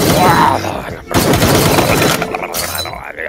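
Gunfire in the video game Palworld: a quick burst of shots with sharp broadband cracks, fairly loud and close, mixed with game noise and some voice.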